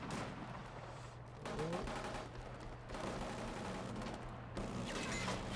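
Gunfire rattles through an online multiplayer match of Killzone Shadow Fall as bursts of rapid shots come in waves, fairly quiet and layered with distant battle noise and an occasional voice.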